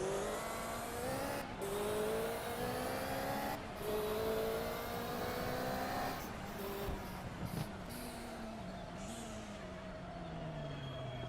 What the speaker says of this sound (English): You can hear that 3-liter Ferrari engine working very well indeed